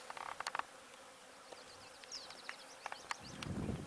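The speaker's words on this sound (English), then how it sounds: "This tree is alive with bees, too." A faint, continuous hum of many bees buzzing together, with a few sharp chirps and clicks scattered over the drone.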